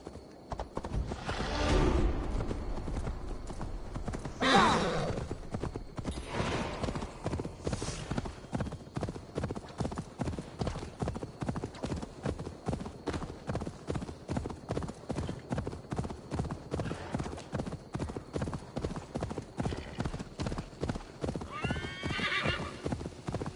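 Steady, rhythmic hoofbeats of a galloping horse in Assassin's Creed Valhalla, interrupted early by a couple of loud neighs and another whinny later, with faint game music beneath.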